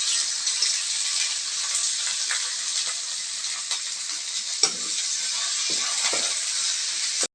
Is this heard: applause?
no